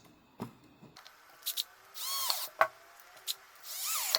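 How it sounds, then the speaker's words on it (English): Screws being driven in with a power tool while installing a smart lock latch: short whirring bursts with a few brief clicks between them, close by, with no talking. "And now install the screws."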